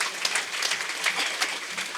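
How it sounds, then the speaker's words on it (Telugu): An audience at a pyramid meditation centre gathering in Mandapeta claps together in a steady, close burst of applause that holds evenly for a couple of seconds. "ఒకసారి గట్టిగా చప్పట్లు కొడదాం ఆవిడకి."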